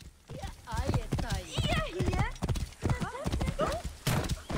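A horse gallops and neighs in Assassin's Creed Origins, with quick hoofbeats and a whinny, while someone talks over it throughout.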